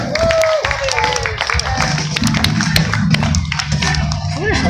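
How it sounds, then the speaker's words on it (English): Audience applause at a magic show, dense clapping that carries throughout, with a voice talking over it. "Give this man a round of applause."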